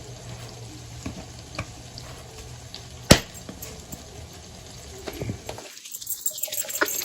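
A mixed vegetable curry stirred in a pan keeps up a steady, hissing sizzle with soft scraping, broken by one sharp metallic knock midway and growing busier toward the end.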